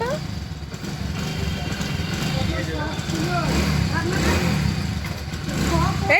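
An old, rattling motorbike engine runs close by, a continuous mid-pitched putter that swells and revs slightly, heard beneath overlapping voices of people talking.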